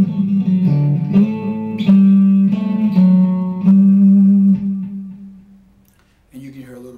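A distorted electric guitar with EMG DG-20 pre-wired pickups and the mid-range boosted plays several ringing, sustained notes in a loose rhythm. The notes fade out, then a final chord comes in at the end.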